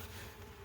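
Honeybees hum at the hive after being consolidated into a single brood box ahead of winter, a steady, dense buzzing drone close by with no voices.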